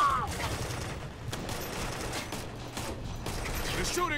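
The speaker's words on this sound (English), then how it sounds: "They're shooting at me." Scattered distant gunfire cracks out in the Operation Flashpoint: Red River military shooter, with a few sharp bursts over a constant rumbling, mechanical battlefield background.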